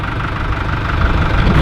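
A New Holland 4835 tractor pulls a two-furrow Bellin plough, its diesel engine throbbing loud, close and steady with a low, even rumble throughout.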